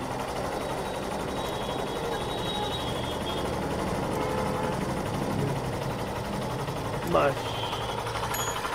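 A Hero Super Splendor BS6 motorcycle idles steadily after a mileage tune-up, its low, even engine rumble running throughout while someone talks over it.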